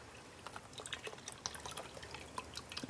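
Broth poured from a carton into a soup pot for homemade soup, a faint, steady liquid trickle with scattered drips and splashes, fairly quiet and alone.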